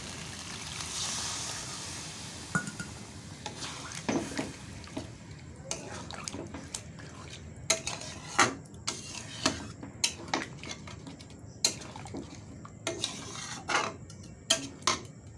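Water poured into a pot of simmering egg curry in a village-style kitchen, a soft splashing pour followed by scattered drips, clinks and light utensil knocks, quiet and close.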